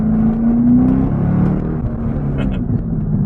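A 2012 Corvette Grand Sport engine hums and whirs steadily at low volume, a smooth, quiet idle with a faint rise in pitch early on.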